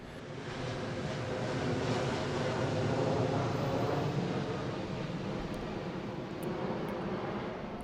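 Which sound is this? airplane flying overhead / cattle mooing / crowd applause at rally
airplane flying overhead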